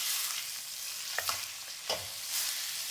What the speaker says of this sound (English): While that is doing, make sure you simmer it, you turn it around thoroughly.